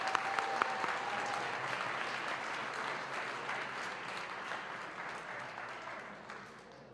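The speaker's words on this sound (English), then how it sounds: "Let's give a round of applause." A crowd at a high school band concert gives a round of applause for eighth-grade band members, dense continuous clapping that holds steady and then tapers off toward the end.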